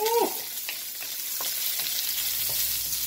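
Basil, ginger and garlic fry in hot oil for a beef stir-fry, giving a constant close sizzle broken by several soft scraping stirs and light pops.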